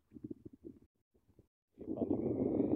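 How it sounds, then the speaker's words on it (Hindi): Steady wind rushing by a riverbank, rising abruptly after a few seconds of quiet speech-like murmurs and then blowing loud and continuous to the end. "हवा चल रही है,"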